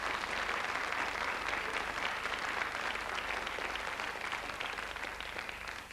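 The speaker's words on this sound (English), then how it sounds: "I think that's worth a serious round of applause." A studio audience on a 1986 Irish television quiz show gives a sustained, even round of applause, a dense continuous clatter of many hands that tapers slightly at the end, with no talking over it.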